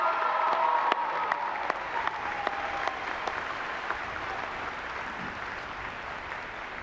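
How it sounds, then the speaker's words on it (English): Steady applause from a large crowd, sustained clapping throughout with a few sharper claps standing out near the start. "well-deserved round of applause"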